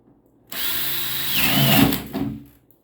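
A power drill whirs for about two seconds, pitch rising slightly as it bites, then winds down and stops; close and loud.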